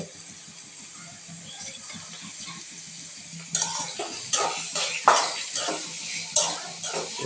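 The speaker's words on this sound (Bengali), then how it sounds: "তেল দিয়ে এখন একটু নাড়াচাড়া করতে হবে, নাড়াচাড়া দিতে হবে।" A utensil stirring chopped onions frying in oil in a pan, with a low steady sizzle and intermittent louder scraping and clattering strokes against the pan in the second half.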